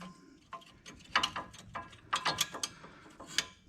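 Ratchet wrench working on a brake caliper during a wheel bearing job on a vehicle, giving a series of sharp, close clicking bursts in uneven clusters with short pauses between them.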